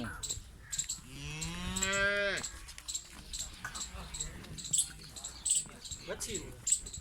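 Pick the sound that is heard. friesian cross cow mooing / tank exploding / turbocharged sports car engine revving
friesian cross cow mooing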